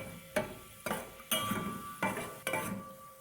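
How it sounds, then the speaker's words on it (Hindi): Almonds being stirred in a frying pan, with a spoon knocking against the metal in five sharp scrapes and clinks about half a second apart over a soft background sizzle, close and fairly quiet. "लाइट ब्राउन होने तक इसको फ्राई करेंगे।"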